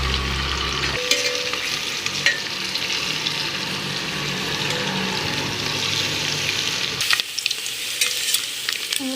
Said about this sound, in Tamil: முட்டை எண்ணெயிலே ஃப்ரை ஆகிற வரைக்கும் வதக்கணும்.